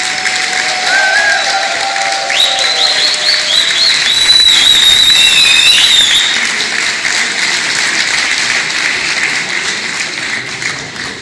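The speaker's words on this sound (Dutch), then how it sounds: "Ja, een fantastisch applaus." Applause and cheering roar through a carnival society session in a packed hall, with loud whistles and tooting tones rising over steady clapping that tapers off slightly near the end.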